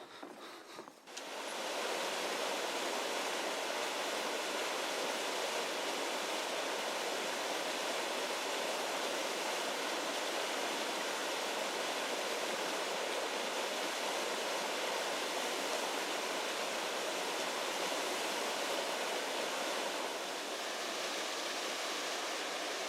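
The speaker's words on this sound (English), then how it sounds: "Nice little waterfall." A small waterfall at Savage Gulf pours in a steady, broad rush of falling water, close and constant throughout with no voices.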